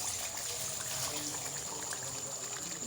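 Water pours into a pot of tinda gosht, apple gourd cooked with meat, in a soft, steady trickle that stays faint and continuous.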